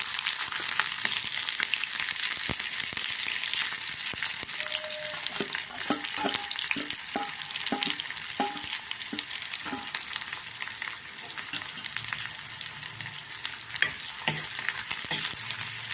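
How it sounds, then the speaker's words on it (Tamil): Oil sizzling and crackling steadily in a pan as onion, dried chilies and curry leaves fry, with a few short clinks of stirring partway through, close up. "இப்போ வெங்காயம் ரெண்டு காஞ்சி மிளகாய் கருவேப்பிலை போட்டு அப்படியே தாளித்து போட்டிடலாம்"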